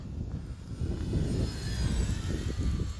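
An Arrows RC Bearcat model warbird flies overhead during a lunchtime session, its motor a faint, steady drone that swells slightly as it passes at a distance.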